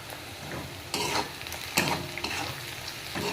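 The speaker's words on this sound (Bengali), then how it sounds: "দেখো পেঁয়াজ আদা আর রসুন কুচিটা প্রায় ভাজা হয়েই এসছে।" Chopped onion, ginger and garlic sizzle in hot oil with a sprinkle of kasuri methi while being stirred for an egg tadka, giving a steady close crackle broken by scraping stirs.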